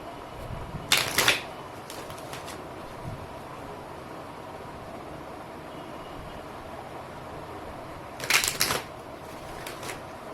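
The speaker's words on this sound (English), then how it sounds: "One last shuffle and then we'll get some cards" Two brisk riffles of a card deck, one near the start and another near the end, separated by quiet room tone.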